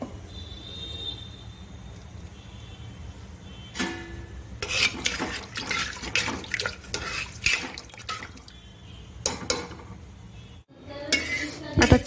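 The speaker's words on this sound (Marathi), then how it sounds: "आता शेंगदाण्याचं कूट अगदी थोडं घालायचं आणि छान ह्याला हलवून घ्यायचं." A spoon scrapes and clinks against a pan while vegetable gravy with a little crushed peanut powder is stirred, with scattered close metallic scrapes and taps and no talk.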